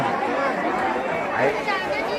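A huge, dense crowd chatters at the Kelambadevi temple in Kharoshi during Navratri, a continuous close babble of many voices with one person talking over it.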